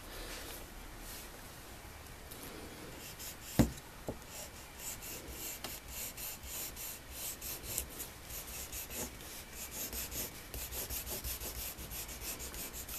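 A wooden creaser rubs steadily against leather, a faint continuous rhythmic rasping of back-and-forth strokes with one sharp tap partway through, close up and without talk.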